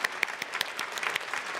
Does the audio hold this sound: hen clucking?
no